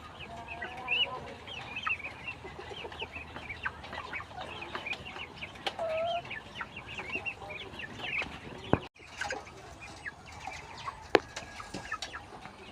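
Month-old chickens and ducks resting on a farm after feeding, with soft, scattered clucks and chirps from several birds close by over a quiet background.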